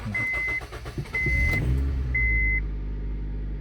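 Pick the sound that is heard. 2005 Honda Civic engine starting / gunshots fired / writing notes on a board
2005 Honda Civic engine starting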